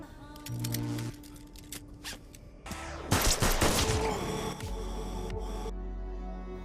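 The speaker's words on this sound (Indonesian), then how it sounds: "Ranveer dan semua anak buahnya langsung memberondong peluru kepada Rajan hingga tewas." A burst of gunfire in a dramatic film scene, a sharp loud volley in the middle set among hums, clicks and other soundtrack noise before and after.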